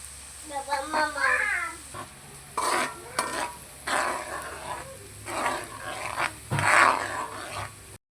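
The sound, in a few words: garlic frying in oil for chilli garlic oil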